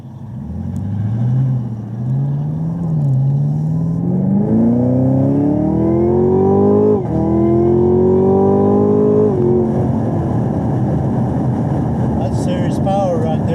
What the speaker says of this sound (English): And then what you do is you can rev the engine.